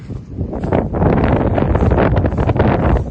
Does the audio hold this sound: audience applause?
no